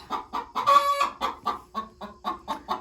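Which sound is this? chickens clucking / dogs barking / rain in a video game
chickens clucking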